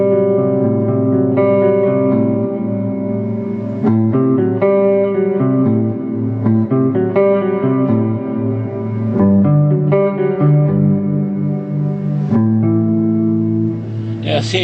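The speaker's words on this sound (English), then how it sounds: "this is just a preset on the H9 reverb" Sustained electric guitar chords through an H9 reverb pedal preset ringing out with a lush, washy reverb tail, notes blending together continuously at a steady, fairly loud level.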